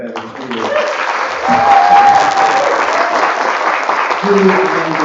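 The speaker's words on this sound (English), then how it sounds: "Let's have another round of applause for our fabulous readers." Audience at a literary festival applauding its readers, sustained close clapping from a crowd with a voice speaking over it part of the time.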